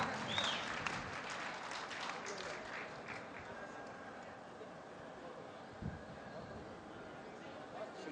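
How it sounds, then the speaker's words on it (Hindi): Steady applause from an audience at a kavi sammelan poetry gathering in Burhanpur welcomes a poet to the stage, sustained and fairly distant, filling the hall evenly throughout. "जोरदार तालियों से स्वागत करें"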